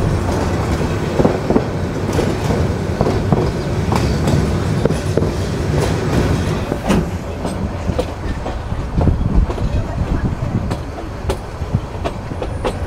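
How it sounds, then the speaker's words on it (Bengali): A train runs along railway track through a curve on the way to Parbatipur Railway Junction, its wheels giving a steady close rumble with repeated clickety-clack beats over the rail joints and no voices. "জোস লেভেলের একটি কার্ভের সাথে আমাদের ট্রেন ছুটে চলছে পার্বতীপুর রেলওয়ে"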